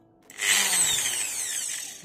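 A Black + Decker variable-speed electric drill whirs up abruptly from near silence, then runs in a high, steady whine that slowly sags in pitch, fairly quiet and close, with no talking.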